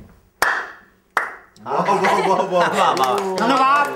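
Two sharp, isolated hand claps ring out with a brief pause between them, each leaving a short decay, followed by a voice talking in a comedy studio setting.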